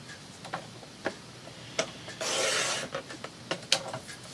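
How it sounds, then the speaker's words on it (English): Thin white edge being trimmed off a sheet of paper, heard as a broad rasping cut lasting about half a second amid a handful of soft, sharp ticks and taps nearby, with no voices. "when I trim that little teeny white edge off"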